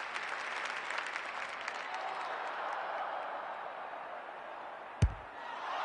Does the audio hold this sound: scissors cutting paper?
no